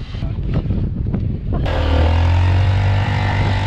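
A motorcycle travels a mountain road in the hills of Dhading, Nepal, its engine rising from rough wind-buffeted noise to a steady, loud, droning hum close to the microphone, with no clear talk.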